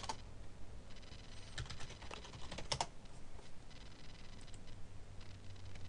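Typing on a computer keyboard while setting up an HD texture pack for Minecraft, with steady soft key clicks running throughout and a few sharper, louder taps near the middle, close and alone.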